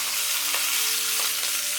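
Toulouse and smoked sausages fry in a pan, giving a loud, even, close sizzle with a few faint pops and no voices.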